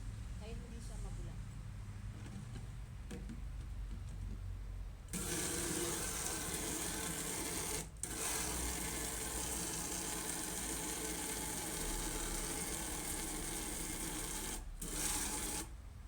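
Clothes washed by hand with a little cold water and liquid soap, with continuous sloshing, rubbing and splashing throughout, a brief pause partway, and a voice talking over it in the first part.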